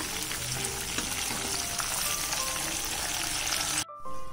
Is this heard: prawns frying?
yes